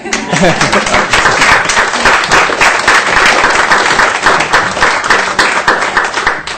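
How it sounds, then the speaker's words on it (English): A round of applause from the audience at a chalk art talk, loud and dense, with a fast patter of many hands clapping continuously from start to finish. "Should we do another round of applause?"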